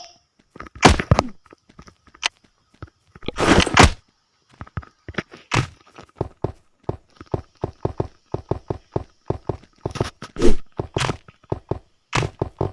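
Blocks being smashed in the Bed Wars video game, heard as a run of sharp, irregular knocks and thunks, some clustered in quick bursts and others spaced apart, fairly close and clear.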